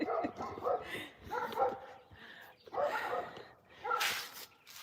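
A deep-voiced dog barks in a steady series of rough, rhythmic bursts outdoors in a garden, each bark fairly loud and separated by short gaps.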